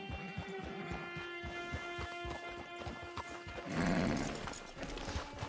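Horse hooves clip-clop steadily in Red Dead Online, a regular trotting rhythm close by with a brief louder crash or snort midway.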